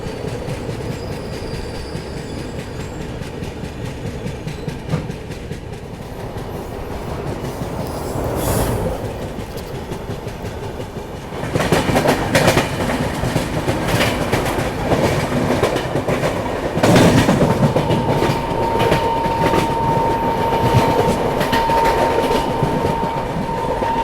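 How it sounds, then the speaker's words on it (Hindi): The Rajdhani Express from Dibrugarh to New Delhi rolls along the track with a loud, steady rumble and rhythmic clickety-clack. The wheels grow louder midway, and a faint tonal whine is heard near the end. "आप लोग ट्रैक साउंड एंजॉय कीजिए बस"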